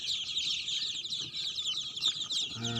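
Young ducklings on a duck farm peep in a dense, continuous chorus of high chirps, fairly faint and close, with no talk.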